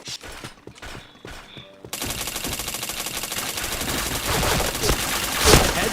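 Gunfire crackles in a shooting video game: after a quieter stretch of sparse shots and clicks, a dense sustained burst of rapid automatic fire takes over, loud and close, with a brief voice early on.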